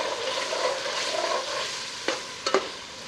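Mutton tripe fries in masala and oil with a steady, fairly loud sizzle, broken near the end by a few sharp spoon-against-pan stirring knocks.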